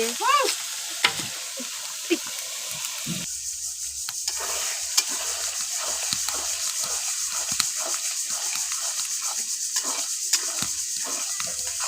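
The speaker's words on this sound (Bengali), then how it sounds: "টমেটো এবং মটরশুঁটি সব কিছু দিয়ে ভালো করে ভুনা করে নিচ্ছি" Tomatoes and peas being sautéed in a pan for a pasta noodle dish, with loud continuous sizzling and repeated rhythmic scraping of a spatula stirring the mixture, close up.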